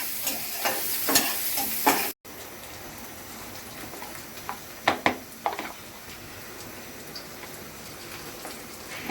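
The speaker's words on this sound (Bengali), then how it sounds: "পেঁয়াজটা একটু বাদামি বাদামি ভাজা হওয়ার পর বাকি সব মশলাগুলো দিয়ে দিব।" Onions frying in a pan until brown give a low, steady sizzle, with a few sharp stirring clicks and pops near the start and around the middle, heard up close with no talking.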